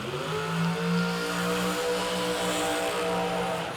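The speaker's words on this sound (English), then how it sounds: "that's a burnout contest" Drag racing car doing a burnout at the K&N Spring Fling at Galot, its engine held at high revs in a loud, steady droning roar with a slight swell early on, close by.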